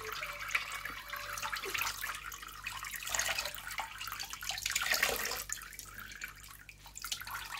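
Water squeezes and drips from wet avocado-dyed yarn into a pan or basin. A continuous splashing, trickling wash sounds close and moderately loud, with no talking.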